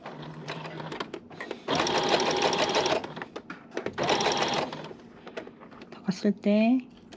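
Sewing machine stitching a collar onto a hanbok dress, running in two steady multi-second bursts with short pauses, close up, with a person speaking between the runs.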